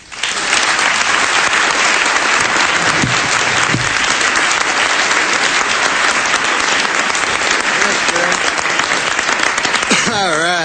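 Sustained, loud applause from a large audience welcoming comedian Norm MacDonald at a formal dinner roast, steady throughout before a voice begins speaking at the end.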